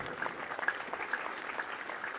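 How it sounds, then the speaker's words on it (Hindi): Audience applause at a passing out parade at the SSB academy in Srinagar, a steady faint patter of many hands clapping, heard from a distance with no voices over it. "एक बार पुनः अभिनंदन करेंगे तालियों से सभी दर्शक"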